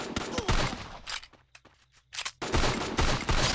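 Gunfire in the mobile battle royale game Free Fire, with rapid bursts of automatic shots at the start and end around a quieter gap holding a few isolated shots.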